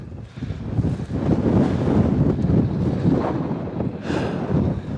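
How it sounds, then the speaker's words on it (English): Strong wind gusting across open Canadian farmland on a fresh day, heard as a steady roaring rumble buffeting the microphone, rising and falling in gusts without pause. "It's a windy day, nice and fresh."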